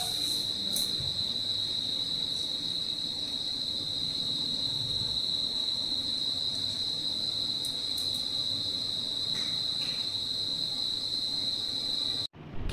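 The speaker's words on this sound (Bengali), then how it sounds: "কি সুন্দর ঝিঝি পোকা ডাকছে," Crickets chirp continuously outdoors in a steady high-pitched trill, with faint kitchen clatter underneath and a brief cutoff near the end.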